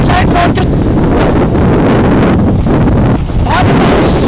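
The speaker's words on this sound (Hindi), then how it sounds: "तेज हवा चल रही है" Strong wind and heavy rain from Cyclone Biporjoy lash Dwarka during landfall, a loud, unbroken roar buffeting the microphone, with faint voices partly buried beneath.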